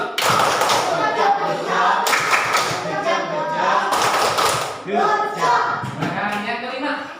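Children in a classroom clap a rhythmic hand-clapping game, with repeated bursts of sharp claps and chanting voices, loud and close throughout.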